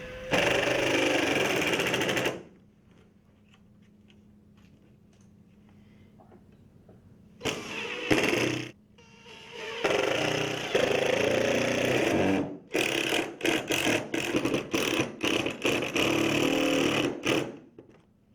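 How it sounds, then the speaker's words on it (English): A power screwdriver drives number 10 by 1 inch screws into the head of a Pella OXXO patio door, sounding as a series of close, buzzing bursts separated by short pauses, with quicker stuttering pulses near the end. "install 6 number 10 by 1 inch screws into one half of the head"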